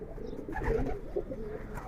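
Racing pigeons in a loft give a low, soft coo, one near, rounded call swelling in the middle and trailing off over faint background hum.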